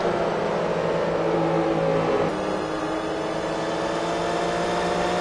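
Porsche GT3 race cars accelerating in Forza Motorsport, a steady engine whine and whir that shifts pitch partway through, moderately loud and continuous with no talk.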